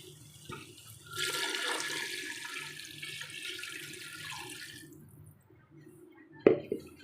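Water rushes and splashes steadily into a cooking pot for several seconds, then tapers off, followed by a brief clunk.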